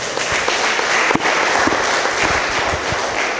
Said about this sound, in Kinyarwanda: Muha amashyi nimunda aramuzi